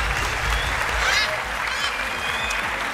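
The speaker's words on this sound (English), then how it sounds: "big applause for Alex." A talent show audience applauds loudly and continuously for a performer, dense clapping with some crowd noise and faint voices mixed underneath.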